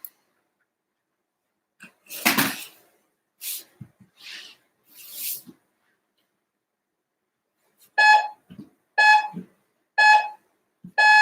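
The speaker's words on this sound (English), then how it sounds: "All right, I'm going to set the timer." A workout timer during a Brazilian jiu-jitsu guard-drill session sounds four short, bright electronic beeps in steady succession near the end, after a quiet stretch with a few soft rustles and thuds.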